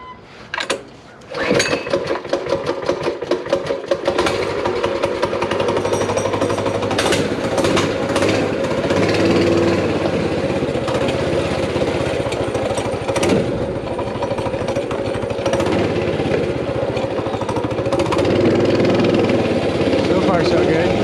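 Baja Warrior mini bike small engine starting with a couple of pulls, then catching and running loud and steady with a rapid chattering putter close by, throttle rising and falling, voices talking over it.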